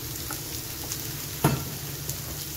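Chopped onion goes into a pan of eggplants. It meets the hot oil with a brief loud sizzle burst, and a constant close frying crackle runs around it.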